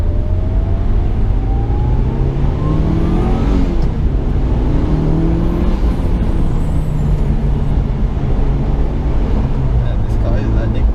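Mitsubishi Lancer Evolution engine revving hard through a power run, a loud continuous roar with rising and falling pitch sweeps as it climbs through the revs, filling the whole clip.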